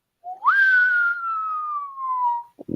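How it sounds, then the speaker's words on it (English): A person whistles one clear sustained note that slides up at the start, then holds steady and drifts slightly lower for about two seconds before stopping. "somebody whistles that particular note"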